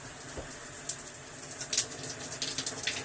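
Hot water runs from a tap in a cabin, a steady hiss of flow with scattered splashes and clinks, fairly faint and heard alone.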